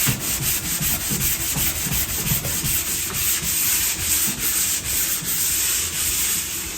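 Lap marks in plaster wall texture being sanded by hand, a close, steady rhythmic scratchy rubbing with repeated strokes and no talking.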